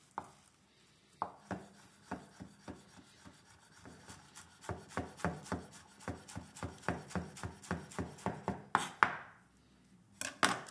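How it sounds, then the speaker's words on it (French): A knife finely chopping fresh parsley on a cutting board, a quick run of crisp, regular taps that start sparse and then settle into a steady rhythm, close and fairly quiet with no talk over it. "je vais ciseler un peu de persil, ciseler finement"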